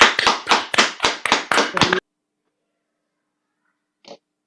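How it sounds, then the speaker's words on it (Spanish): Brief burst of clapping from a few participants over open microphones at a virtual recognition event, a sparse irregular run of claps lasting about two seconds, then near silence with one faint click. "Pueden abrir los micrófonos y aplaudirlo porque creo que se lo merece"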